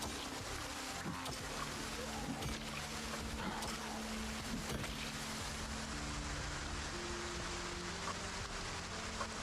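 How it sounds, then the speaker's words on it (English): Steady rain falls in the Project Zomboid video game, a dense continuous hiss with low droning game tones beneath it, constant at a moderate level for the whole stretch. "I can't hear anything with this rain."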